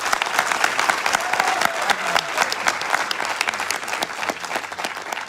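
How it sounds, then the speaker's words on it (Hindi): Enthusiastic audience applause at an Indian gathering, a dense, steady wash of many hands clapping that fills the whole stretch at fairly close range, with no talk over it. "तो सर के लिए जबरदस्त तालियां।"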